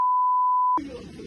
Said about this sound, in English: as you can tell from all the beeps in the video